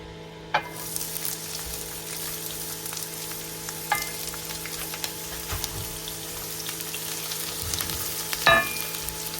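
Chopped onions sizzle in a half tablespoon of soybean oil for chicken patties, a steady close hiss of frying with a few sharp pops and spatula clinks scattered through it.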